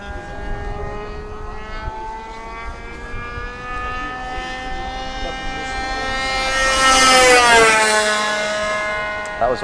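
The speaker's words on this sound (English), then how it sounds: "That was a full speed flyby." A modified Tower Trainer model airplane passes at full speed, its small engine a steady high buzz that rises and bends in pitch as it sweeps close by, then falls away as it departs.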